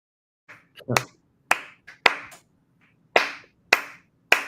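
A single person clapping, sharp separate hand claps in an irregular rhythm with gaps between them, close and clear against a quiet room.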